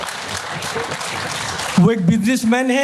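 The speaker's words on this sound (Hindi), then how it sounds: "तो मैं चाहता हूँ कि इस जज्बे के लिए उनकी तालियां बनती हैं" Applause from an audience at the Jashn-e-Rekhta 2022 literary festival fills the first two seconds as a dense wash of clapping, then gives way to someone speaking.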